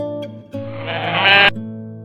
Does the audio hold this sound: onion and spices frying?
no